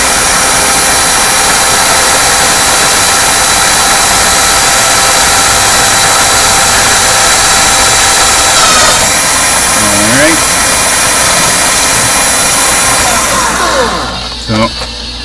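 A drill bores through a small metal lock pin close by, a loud, steady motor whine running for most of the stretch before slowing and stopping near the end.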